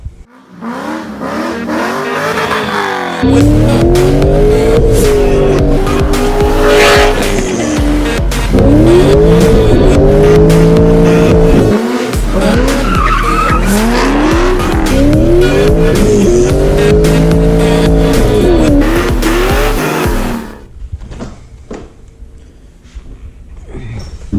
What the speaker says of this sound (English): we're going for a drive